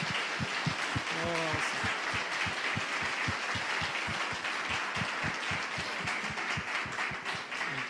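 A congregation at a Sunday Bible school claps in a steady, rhythmic round of applause, fairly quiet and even, with faint voices underneath.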